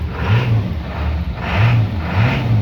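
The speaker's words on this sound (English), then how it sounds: "Let's give it some throttle." A 1997 Ford F350 Powerstroke diesel pickup engine revs up three times in quick succession, each rise in pitch swelling and falling back, loud and close.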